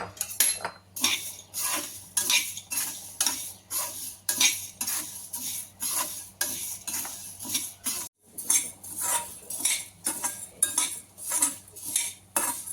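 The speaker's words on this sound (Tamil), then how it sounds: "பருப்பை வந்து மீடியம் ஃப்ளேமில் வச்சு வறுக்கிறோம்" Toor dal dry-roasting in a pan over a medium flame, stirred without pause: rhythmic metallic scraping and clinking of a spoon against the pan, roughly twice a second, close and crisp with a brief break midway, no voices.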